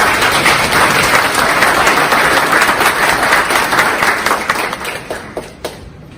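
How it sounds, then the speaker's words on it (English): Loud applause from a summit audience at Climate Week NYC welcomes speakers to the stage, a full burst of many hands clapping that thins into scattered claps and fades near the end. "Round of applause."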